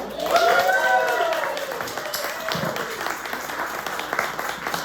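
An audience claps together in a room, a dense patter that is loudest at the start and then thins slightly, while a voice calls out over it.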